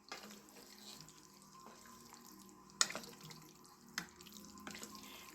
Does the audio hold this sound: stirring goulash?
yes